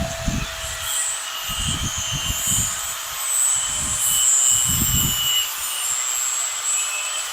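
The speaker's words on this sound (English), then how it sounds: "So let's get this hose cut, and then we'll get her in the machine or get her crimped up." A hydraulic hose for a lowrider is cut by machine, with a loud, steady high whine over rough, rhythmic grinding pulses that surge and fade several times. No voices are heard.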